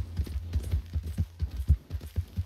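Horse hooves clip-clop in Red Dead Redemption 2 gameplay, a quick, even trotting rhythm of soft thuds close by, with a low hum under it and no talk.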